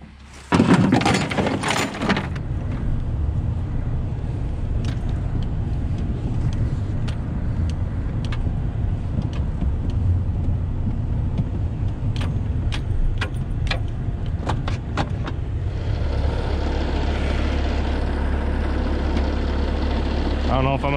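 A pickup truck engine idles steadily on an icy farm, a continuous low rumble throughout, with brief voices near the start and a few light clinks and knocks partway through.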